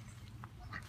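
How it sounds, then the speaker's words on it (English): Ducks in a summer vegetable garden, giving a couple of faint, brief quacks over a low, steady background rumble. "And there are ducks in there."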